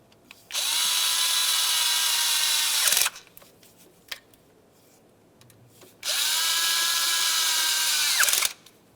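Power tool snugging bolts on the throttle position sensor of a 1994–2002 Dodge Ram 2500: two loud, close, high-pitched whirring bursts of about two and a half seconds each, separated by a pause with faint clicks.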